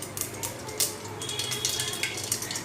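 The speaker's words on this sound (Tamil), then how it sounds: "கடுகு நல்லா பொரிஞ்சதுக்கப்புறம் வெயிட் பண்ணுங்க" Mustard seeds pop and splutter in hot oil in a pan on the stove, sharp scattered crackles over a soft continuous sizzle, close and fairly quiet, with an occasional clink of a utensil.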